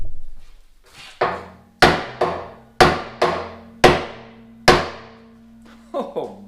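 Someone hammers on a steel three-point grader blade to close a gap, landing about seven sharp, ringing blows in an uneven rhythm, each decaying with a metallic tone, close and loud.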